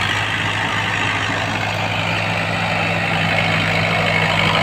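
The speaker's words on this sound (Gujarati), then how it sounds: "જો આ છે ને આપણું ટ્રેક્ટર આવે છે અને ટ્રેક્ટરની પાછળના ભાગમાં રોટાવેટર મશીન લાગેલું છે।" A tractor with a rotavator machine mounted at the back comes along a farm field between two rows of trees, its engine a steady, loud, low droning hum that swells slightly as it nears, with no talking.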